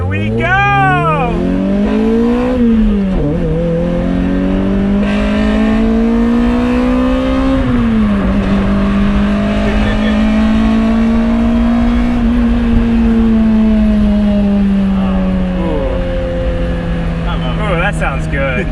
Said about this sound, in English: the engine breathes really nicely up top because you have Toyota VTEC